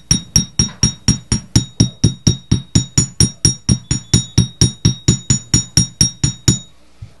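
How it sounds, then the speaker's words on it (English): A hammer strikes a copper bangle loop resting on a steel bench block, about twenty sharp, ringing metallic taps in a steady, even rhythm, loud and close with no talking. "we're just going to hammer the loop a little bit to get some of that texture"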